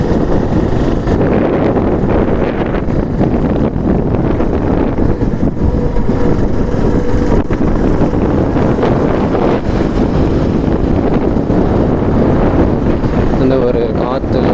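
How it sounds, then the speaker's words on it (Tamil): Heavy wind buffets the microphone as a motorbike climbs the hairpin bends of the Kolli Hills, with a constant loud roar and engine noise mixed in throughout. "இந்த ஒரு காற்று"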